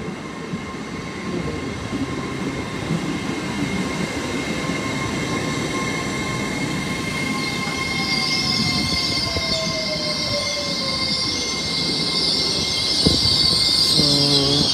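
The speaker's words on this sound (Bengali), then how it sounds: "This is my train." A passenger train at London Paddington rumbles steadily on its rails, with a long squealing tone from the wheels in the middle and a louder rise near the end, heard alone without voices.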